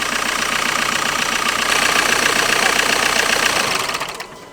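A car engine runs loudly nearby with a faulty timing belt tensioner. A rapid knocking rattle rides on the engine note and swells as the revs rise, then the sound drops away at the end.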